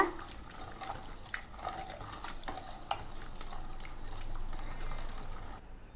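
Cooked food for a curry side dish is churned in a pot with a wooden masher (mathukol), making a continuous close swishing and mashing with repeated soft scrapes and wet stirring, with no voices.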